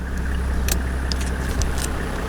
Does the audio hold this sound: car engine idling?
yes